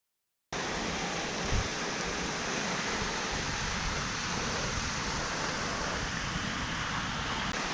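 A waterfall in Solang Valley pours down from above into the valley below, making a steady, dense rushing roar that carries on evenly and without a break once it begins.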